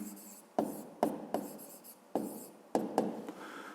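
Handwriting with a pen on paper for a math exercise: several short, close scratchy strokes with tapping onsets, quiet and rhythmic, no voice present.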